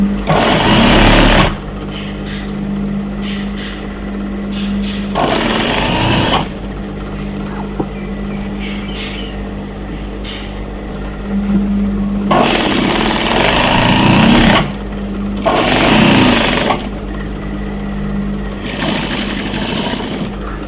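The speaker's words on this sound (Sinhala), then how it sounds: "ඊට පස්සේ අනිත් පැත්තත් ඒ විදිහටම මහ ගන්න." Sewing machine stitching the leg seams of women's office trousers, running in several loud bursts of rapid stitching separated by pauses with a low steady hum.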